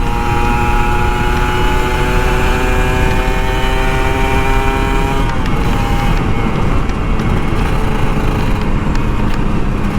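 A Kawasaki Ninja RR motorcycle engine runs loud and close with a steady, buzzing tone that holds for several seconds, then drops abruptly and turns rougher as the throttle changes.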